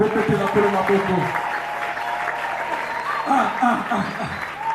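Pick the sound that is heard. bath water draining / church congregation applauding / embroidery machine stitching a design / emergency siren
church congregation applauding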